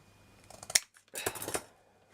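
Scissors snip through craft material for a miniature crooked house model, a sharp close cut followed after a short pause by a longer crunching run of snips, with no talking.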